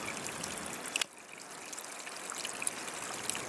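Mountain spring water trickles and streams steadily out of the rock on a hiking trail, a continuous close splashing flow with a brief sharp knock near the start.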